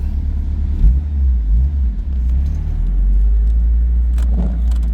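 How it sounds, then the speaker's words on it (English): A 2005 Honda S2000 Roadster being driven, heard from inside as a steady low engine and road rumble with slight swells in pitch and a few faint clicks. "Let's go ahead and drive it a little bit."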